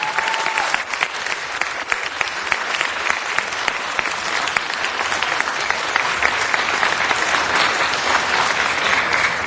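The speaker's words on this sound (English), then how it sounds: "Let's give him a big round of applause." A city council meeting audience gives a sustained round of applause, dense steady clapping filling the room at even loudness throughout with no talking over it.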